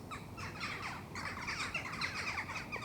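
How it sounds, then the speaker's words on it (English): Birds calling outside, with several overlapping chirps and caws at moderate volume over a soft background hush, continuous for a few seconds without talk. "the birds that you can hear flying overhead"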